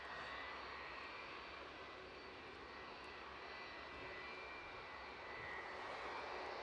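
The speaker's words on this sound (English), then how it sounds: "And that is the Falcon 2000 EX that is on its way to London Luton." A Falcon 2000 EX business jet near Edinburgh Airport, its engines a continuous distant whine and rumble that holds steady and swells slightly toward the end, alone without talk.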